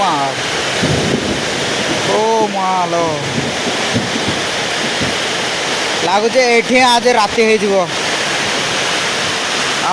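Heavy rain driven by strong wind gives a loud, continuous roar with gusty buffeting against the microphone, while a person talks over it throughout.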